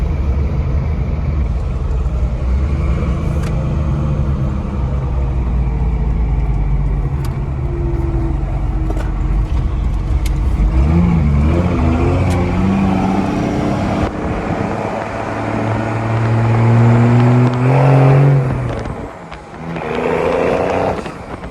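A first-generation Cummins turbo diesel pickup truck, long abandoned, runs and drives with a loud, steady low engine drone and rising and falling tones as it accelerates, heard from inside the cab for about twenty seconds.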